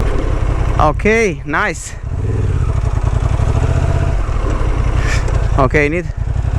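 A Honda XL750 Transalp motorcycle engine idles and rumbles steadily up close during slow off-road turning, with brief spoken remarks over it.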